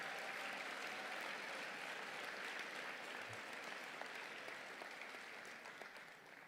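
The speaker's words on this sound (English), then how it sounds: "Let's give everybody a big round of applause." Crowd at an award ceremony gives a long, steady round of applause, a thick wash of clapping that stays even before tapering slightly at the end, heard at a distance.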